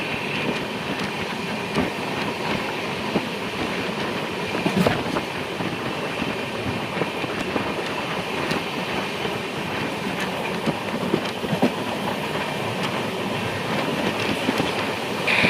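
Steady interior roar of the Ernakulam-Velankanni Express running through fields near Chottanikkara Road, with a continuous rumble and faint rhythmic clickety-clack over the rails, heard alone and close from a second-class coach.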